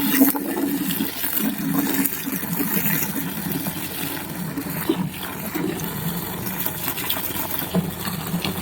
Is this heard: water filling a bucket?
yes